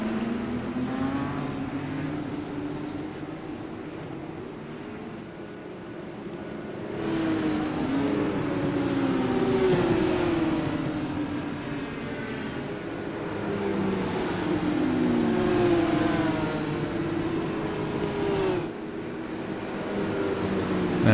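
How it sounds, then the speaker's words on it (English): Race cars in an Indy Series racing video game rolling off behind the pace car, a loud continuous engine drone with rising and falling revs as the pack accelerates, close and steady throughout. "wait for that pace car to start rolling off, and we will get underway here"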